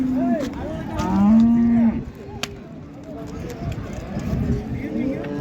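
A young bull lows at a busy livestock market in Qarshi, two drawn-out moos rising over crowd chatter and other animal calls, with people talking throughout.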